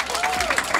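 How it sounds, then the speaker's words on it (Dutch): Applause from an audience at a Dutch YouTuber event at the Toverland theme park, a dense wash of clapping with crowd noise, brief and fairly steady, with a faint tonal sweep running through it. "Mag ik een daverend applaus voor Lois?"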